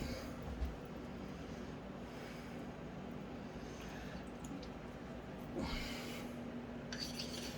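A French honing stone is rubbed to raise a light slurry, giving a continuous gritty scraping that rasps steadily under low background noise, with a brief louder scrape partway through.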